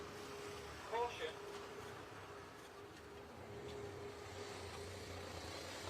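A taxi passing on a street in Clapham, London, giving a faint, steady wash of traffic noise that lasts the whole stretch, with a brief voice near the start.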